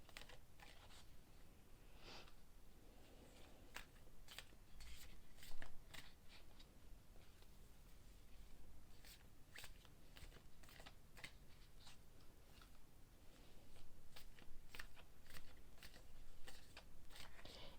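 A deck of tarot cards is shuffled by hand in quick irregular bursts of soft papery riffles and taps, close and fairly quiet, with no voices.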